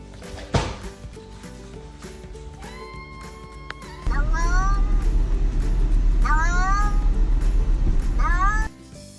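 A cat meows repeatedly in short rising cries close by, heard over background music and talk.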